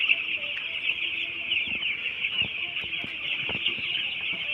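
Steady clucking from a flock of ten-day-old broiler chicks over a constant high-pitched hiss, with occasional short clicks and knocks nearby.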